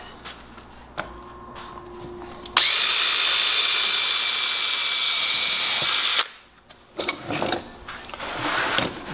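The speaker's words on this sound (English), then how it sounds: "We'll pre-drill countersinks." A power drill whines steadily at high speed for about four seconds, loud and close, pre-drilling countersink pilot holes in wood, between quieter handling noises and clicks.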